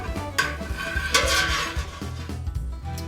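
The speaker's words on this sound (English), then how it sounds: "I'm going to probably stir for about 3 minutes because I'm already getting kind of some firmness" Spoon or paddle scraping and knocking inside a metal pot while mozzarella cheese curds are stirred, a few irregular clinks and swishes, close and moderately loud without talk.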